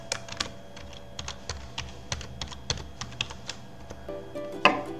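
Steady typing on a computer keyboard while setting up a Moodle course page, with evenly spaced clicking keystrokes and a slightly louder key press near the end, heard close and alone with no talk.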